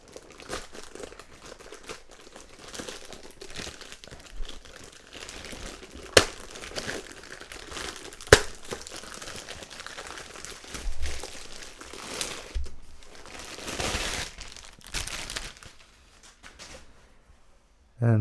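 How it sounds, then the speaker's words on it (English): Plastic wrapping being pulled off new metallic-finish hardware: close, intermittent crinkling and rustling with a couple of sharp crackles. A voice speaks at times. "I'll remove the plastic."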